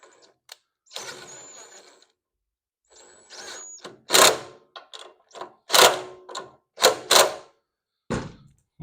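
Bolts are tightened with a power tool in a series of uneven, close mechanical bursts, with short whining runs early on and sharper loud spurts later, separated by quiet gaps.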